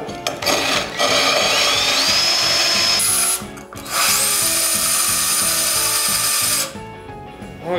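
Wet tile saw cutting a ceramic tile with water, a loud whirring motor with a grinding cutting tone, pausing briefly twice and resuming, close and steady.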